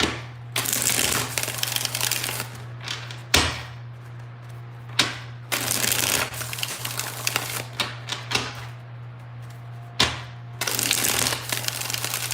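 Tarot cards shuffled by hand during a reading, bursts of dry riffling and flicking that start and stop repeatedly with short pauses and taps between, close and fairly quiet over a steady low hum.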